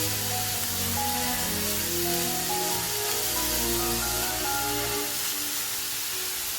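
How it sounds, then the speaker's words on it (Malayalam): Capsicum sizzles and hisses steadily in a hot pan while being stirred for capsicum rice, a dense continuous spray-like sizzle close up with no voices. "ക്യാപ്സിക്കം ചേർത്ത് കൊടുത്ത് നല്ലതുപോലെ ഒന്ന് ഇളക്കി കൊടുക്കാം."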